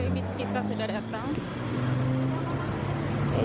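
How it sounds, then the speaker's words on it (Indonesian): City bus number 25 pulling up on a Bangkok street, its low engine rumble steady throughout amid road traffic noise, with speech over it. "Jadi bis kita sudah datang."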